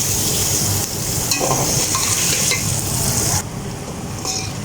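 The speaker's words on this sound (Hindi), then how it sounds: "अब मैं अपने प्याज ऐड कर देती हूँ। तो मैंने बारीक बारीक काटे हुए थे। बिस्मिल्लाह। तो इनको हम ब्राउन कर लेते हैं।" Finely chopped onions frying and being stirred in a pan for a lauki chicken curry, a loud close sizzle with scraping stirs and brief shifts in intensity.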